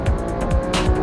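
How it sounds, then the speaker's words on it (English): Lamborghini Aventador S with a naturally aspirated V12 accelerating out of a corner, a loud, close engine roar with quick rising surges and a brief tire squeal over about a second. "the greatest thing about this car is that big naturally aspirated V12, which has just got such a savage power delivery"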